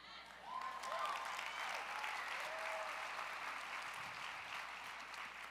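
Keynote audience applauding, a sustained wash of clapping heard at some distance, fairly faint and even, with no talk over it.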